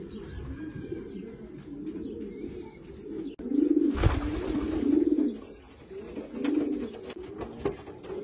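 Racing pigeons coo softly in low repeated phrases, with a brief flutter or rustle midway and a few faint chirps around them.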